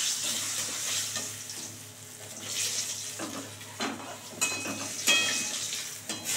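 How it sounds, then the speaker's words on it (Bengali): Pieces of Rita fish frying in hot oil in a pan, a soft continuous sizzle with occasional sharper crackles and pops, fairly quiet and close, with no talking. "এটাও ভালো করে লাল করে ভাজা হয়ে গেছে, এবার তুলে নেব"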